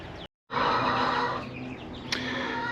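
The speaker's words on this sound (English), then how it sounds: "So this is our 4x8 chicken brooder here in the barn" Chicks in a 4x8 chicken brooder inside a barn give off a dense, steady chorus of high peeping and chirping that fills the space, broken only by a brief silent gap near the start.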